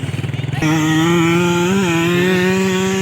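Motocross bikes, including Super Cub and race-built machines, fire up at the start of a dirt track race; a close engine sputters, then roars into a loud sustained buzzing rev that rises and wavers.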